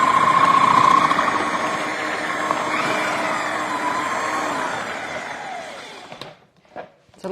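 A Magimix food processor slices chicken salad ingredients with a loud steady motor whir and a faint rising whine. It winds down and stops near the end, followed by a couple of brief clunks.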